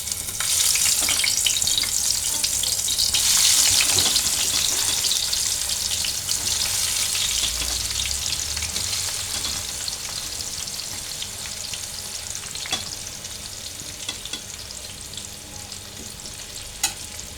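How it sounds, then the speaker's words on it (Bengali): Bitter gourd slices coated in salt, turmeric and chili powder fry in hot oil with a continuous crackling sizzle, strongest at first and easing slightly over time, punctuated by occasional clicks; no talking. "এটা এখন লবণ, হলুদ, শুকনো মরিচের গুঁড়া মেখে আমি এখন এটা তেলে ভেজে নেব।"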